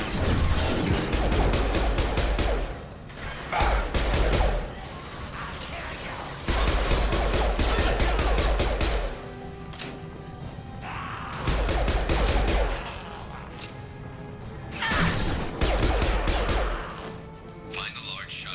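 Several heavy blasts from grenade explosions in Mass Effect 2 boom at intervals among gunfire and combat clatter, each a loud, close thump with a rumbling tail, while voices talk throughout.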